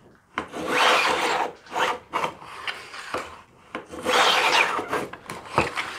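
A sanding block worked back and forth along a guitar fretboard, giving repeated rasping strokes in bursts with short pauses between, close and fairly loud.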